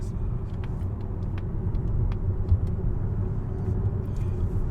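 A Mazda MX-30 EV electric car driving, a steady low road rumble with faint ticks above it, heard from inside the car.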